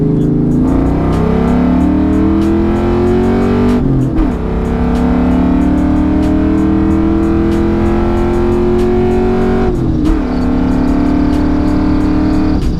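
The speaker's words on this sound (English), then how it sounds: "I'm blowing the tires off right now" A Ford Mustang GT running a 150-shot of nitrous spins its tires: a loud, sustained high-rev engine roar that climbs steadily in pitch, with two brief dips as it shifts, close and continuous throughout.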